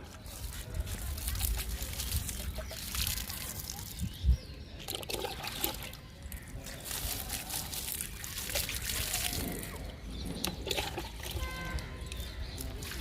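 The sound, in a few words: watering a plant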